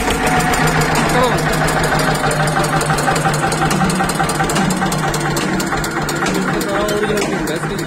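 An Eicher tractor's diesel engine runs after being started, a loud, close, steady chugging rumble with a rapid knocking beat throughout, while people talk over it.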